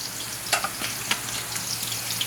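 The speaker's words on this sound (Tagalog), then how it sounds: "fry muna natin ito" Pork spareribs for kaldereta fry in a pan, giving a steady close crackle with scattered sharp pops and spits throughout.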